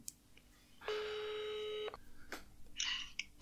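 A telephone places a call: a steady electronic tone holds for about a second, followed by a couple of short bright beeps, quiet and close against a soft hum.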